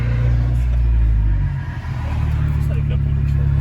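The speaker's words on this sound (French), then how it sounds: "le passage de rapport, il claque encore plus fort" A car engine revs hard nearby with a deep, loud exhaust rumble that dips briefly as a gear changes and then picks back up.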